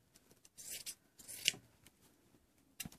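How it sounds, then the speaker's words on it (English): Scissors snip through fabric while trimming off sewing patchwork pieces, a few quiet crisp cuts and light rubbing sounds, close and faint, without talking. "I can cut off these bits and use them again"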